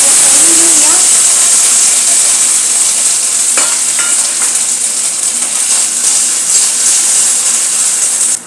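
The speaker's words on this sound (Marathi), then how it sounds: "आता हे चांगले तेलामध्ये परतून घेतलेले आहे." Dried beans, field bean seeds and chickpeas fry in hot oil, giving a loud, steady sizzling hiss close by, with a few faint clinks of stirring partway through.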